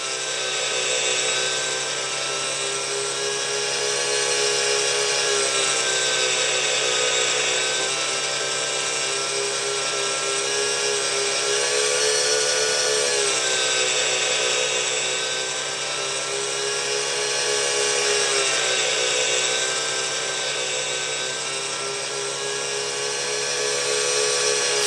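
An RC helicopter hovers in a steady, loud, high-pitched whine with a constant motor drone, swelling and easing slightly in level across the whole stretch, with no talk.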